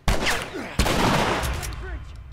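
Two sharp, loud gunshots ring out close up in The Last of Us video game. The second blast follows about half a second after the first, and a dense, ringing clatter trails after each one.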